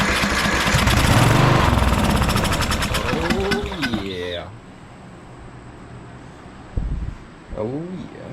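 The engine of an old Craftsman riding mower, primed with starting spray, cranks and fires up, running loud and rough for a few seconds before dying out, followed by quieter clunks.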